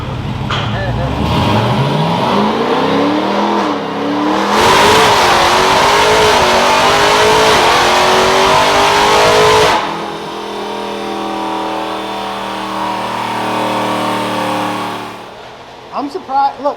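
Supercharged Dodge Hellcat V8 running on pump gas revs hard, with a loud sustained blast of roughly five seconds between rising and settling engine notes, then idles unevenly as people talk nearby.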